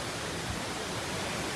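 Yuntai Mountain's hundred-metre waterfall after heavy typhoon rains, heard from close below as a dense, unbroken roar of falling water filling the whole clip.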